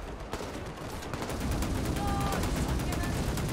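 A .50 cal machine gun fires in the Men of War: Assault Squad 2 game during a battle against an NVA base attack, its dense, steady gunfire filling the scene under other combat noise.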